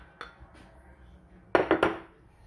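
A spoon stirs baking powder, salt and sugar together in a bowl for cornbread stuffing, with a light tap and then a quick burst of clinking, scraping strokes against the bowl, close up and without speech.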